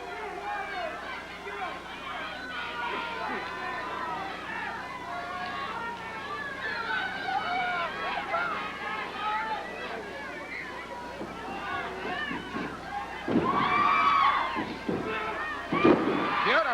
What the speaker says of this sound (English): The crowd exhorting Owen to get his motor going.